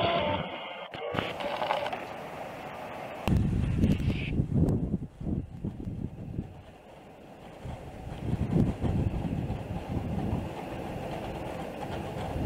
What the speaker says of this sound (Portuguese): Entretanto, o vento intensificou-se